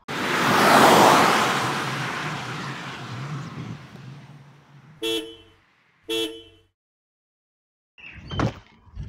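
An FSO Polonez Truck 1.9 GLD pickup sweeps past with a loud rushing whoosh that fades, followed by two short horn toots and a brief clattering burst near the end.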